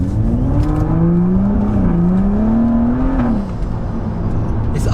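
A tuned BMW M135i hatchback accelerates hard on a drag run, its engine note climbing and wavering through the revs in one continuous loud pull before easing off near the end.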